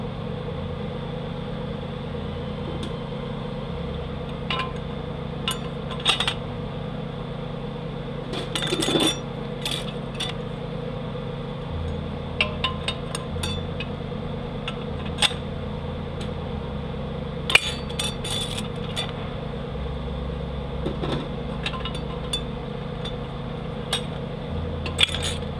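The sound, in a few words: clutch steel plates being stacked in a 42RLE transmission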